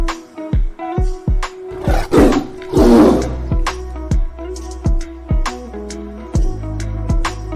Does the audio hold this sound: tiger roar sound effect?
yes